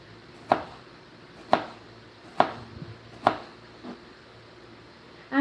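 Ground bitter melon being chopped with a knife on a board, five sharp chops spaced roughly a second apart, close and distinct, with no talking.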